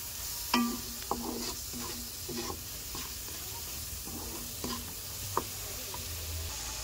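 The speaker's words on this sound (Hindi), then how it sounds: "अभी इन सारी चीज़ों को हमें मिक्स कर लेना है" Masala and salt being stirred in a pan for egg curry, with soft scraping strokes and a gentle sizzle of frying spices, a few sharper clicks of the spoon against the pan, heard close and steady.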